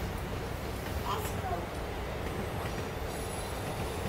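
A train runs in the PS4 Spider-Man video game, a continuous rumbling roll with faint wheel squeal, heard throughout under a voice.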